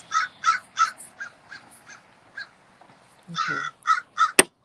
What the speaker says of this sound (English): Oh, there's some crows about.